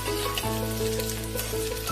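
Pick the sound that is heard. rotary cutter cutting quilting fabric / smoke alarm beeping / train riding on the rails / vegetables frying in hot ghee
vegetables frying in hot ghee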